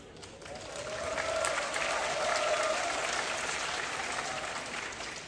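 A graduation ceremony audience applauds, a broad wash of hand clapping that rises after a quiet start, holds steady, then slowly eases off.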